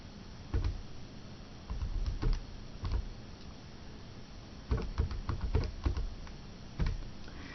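Numbers being typed into a calculator, a series of soft close button clicks in irregular bursts separated by short pauses, with no talking.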